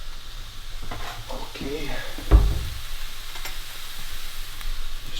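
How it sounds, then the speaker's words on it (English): Ground turkey sizzling as it goes into a pan of browned onions, a steady frying hiss with a brief louder burst at the moment it lands, and a short word spoken over it. "I'm just going to take my turkey, add it to the pan now that everything has browned and cooked, the onions"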